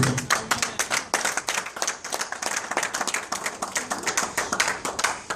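A church congregation claps and applauds to acclaim the Lord, with dense, rapid hand claps carrying on steadily and close by throughout, no speech over them.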